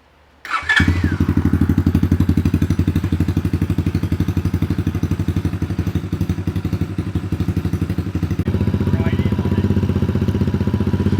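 Buscadero BSX 110 small motorbike engine starting up after assembly, catching quickly and settling into a loud, steady chugging idle that rises slightly toward the end.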